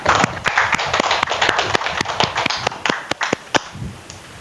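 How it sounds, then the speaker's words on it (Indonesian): A class of students clapping together for a classmate named Raisa, a loud, close run of about eighteen sharp, evenly spaced claps that slows slightly toward the end. "berikan tepuk tangan dulu untuk Raisa"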